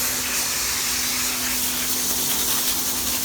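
Hot water sprays steadily onto the fan shroud of a Ford 6.0 Powerstroke truck, a continuous loud hissing gush with a faint pump hum underneath and no pauses.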